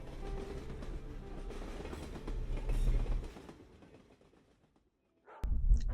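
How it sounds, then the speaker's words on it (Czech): Dogs bark outside a stopped night train from Tbilisi to Yerevan, several sharp barks at a distance over a low rumble of the rail car, which fades toward quiet before a louder burst. "zvenku se ozývá štěkot psů"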